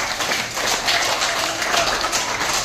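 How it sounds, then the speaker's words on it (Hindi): Classroom of children clapping together for a classmate, a dense, steady patter of many hands lasting the whole short stretch with no talk over it. "उनके लिए जोरदार तालियां बजाइए।"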